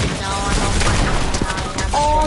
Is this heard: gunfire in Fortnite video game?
yes